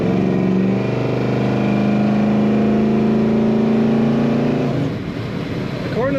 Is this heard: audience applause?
no